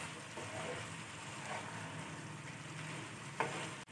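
Masala with coriander, garam masala and pepper powder sautéing for pepper chicken, a soft continuous sizzle with faint stirring scrapes and one brief sharper knock near the end, close but low in level.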